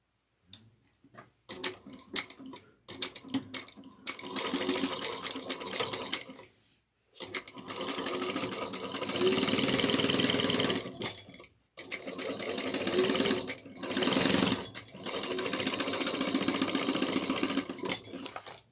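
Sewing machine stitching the bottom seam of a woven tote at three-eighths of an inch, starting with scattered ticks and then running in three long rapid-stitching stretches separated by brief pauses, close and loud.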